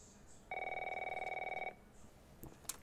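An old telephone rings loudly in The Last of Us video game, a single rapid bell trill lasting just over a second, close and dominant, then fading into quiet room tone.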